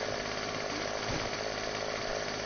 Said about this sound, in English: Is this a chainsaw?